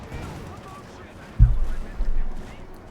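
Machine-gun fire from an LMG-42 in the World War II strategy game Company of Heroes 2: a sudden loud burst, then rattling fire that keeps going over a low rumbling battlefield background.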